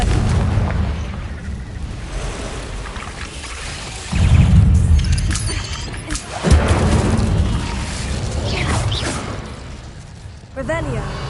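Confringo fire-blast spell cast in Hogwarts Legacy, with loud booming explosive bursts around the midpoint over a rumbling, continuous game soundscape.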